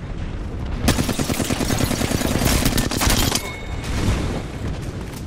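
Rapid bursts of automatic gunfire ring out in Apex Legends, dense and loud for several seconds, with a sharp crack near the start and the firing tapering off toward the end.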